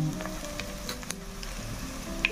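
Garlic and onion sizzle steadily in hot oil as soy sauce goes into the pan, a continuous close crackling hiss with a few brief pops and no talking.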